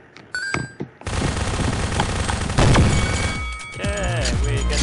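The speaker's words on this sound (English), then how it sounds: "What is this gun? Holy shit! Grenade launcher!" A grenade launcher fires in the video game Zombie Grinder, loud heavy blasts and rapid explosive bursts layered with game music and effects, following a few short sharp shots at the start.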